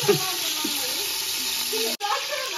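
Ghee and oil sizzling in a hot pan, with pure cow ghee added alongside the oil while cooking mutton biryani. A steady, close hiss holds throughout with a brief dropout near the end, and voices talk faintly underneath.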